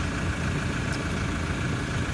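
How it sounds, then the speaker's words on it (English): A cold car engine idles with a steady, unbroken low hum and rumble, close and constant, heard alone without talk. "hopefully you can still hear me with the engine running"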